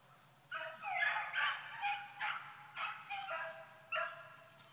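Several hunting dogs bay and howl in overlapping, drawn-out cries on a swamp rabbit hunt, moderately distant, with a low steady hum underneath.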